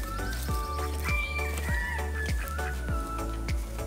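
Chickens clucking and a rooster calling close by, with repeated low thumps on a steady rhythm beneath the birds and no talk.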